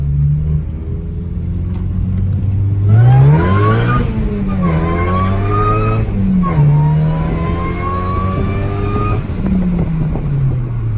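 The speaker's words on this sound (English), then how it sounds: "tap the brake, tap the gas, and I'm building boost off the brake" A 2012 Honda Civic Si fitted with a sprint booster accelerates hard from inside the cabin, its engine revving up through several gears with rising pitch and brief drops at each shift, loud and continuous.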